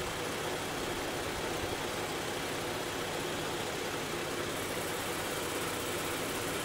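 A car engine idles while its alternator charges an EcoFlow portable power station, a steady, even hum with broadband noise and no change in rhythm throughout.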